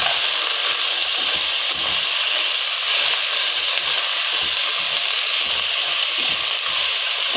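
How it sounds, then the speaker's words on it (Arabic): Okra sizzling in melted homemade animal butter (ghee) in a pan, a steady loud hiss and crackle that runs unbroken throughout, close up with no talking. "بقلبها في الزبدة"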